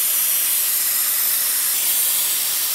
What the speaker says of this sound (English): I'm gonna use my handy air down tool